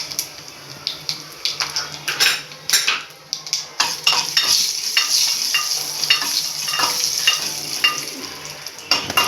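Cumin, hing and whole red chillies fry in hot oil for a dal tadka, sizzling steadily up close while a metal spoon repeatedly clinks and scrapes against the pan as it stirs.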